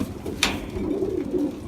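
Pedigree Jensen and Kaiser racing pigeons cooing softly in a loft, a low continuous murmur with a brief sharp flutter or call near the start.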